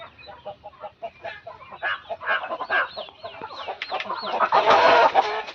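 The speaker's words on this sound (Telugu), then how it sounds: "చాలా మంచి క్వాలిటీ పుంజు పిల్లలండి." A flock of young cockerels of good breeding quality cluck and chatter nearby, calls overlapping and building into a louder, busier cluster toward the end, with no voices.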